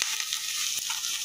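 Potatoes sizzle and fry in a pan alongside onion and eggplant coated with chili flakes, salt and turmeric, giving a steady close hiss with faint stirring scrapes and no talk.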